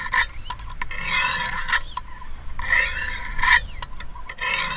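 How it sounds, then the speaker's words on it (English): Knife being sharpened on 100 grit stones of a Wicked Edge WE120 sharpener, giving repeated rough rasping strokes in bursts of a second or so, separated by brief pauses, close and fairly loud with no talking. "I'm starting with the 100 grit stones, and I'm going to make a few passes here."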